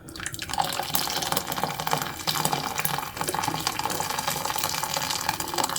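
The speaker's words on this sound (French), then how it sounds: "je vais ajouter de l'eau bouillante jusqu'au niveau max de mon bol" Boiling water pours steadily into a Thermomix bowl while harira soup is being made, giving a continuous close hissing, splashing stream with no talk.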